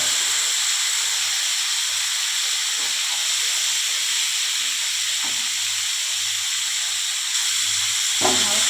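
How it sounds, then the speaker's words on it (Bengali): Cauliflower fries in hot oil with turmeric in a pan for a vegetarian potato and cauliflower dish. A steady, loud hiss and sizzle carries on throughout, broken by a few stirring knocks, with no voices. "ফুলকপিটা ভেজে নেব।"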